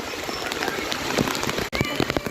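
Heavy rain pours down steadily in a dense hiss of drops on surfaces, with scattered louder splashes and a brief voice partly underneath.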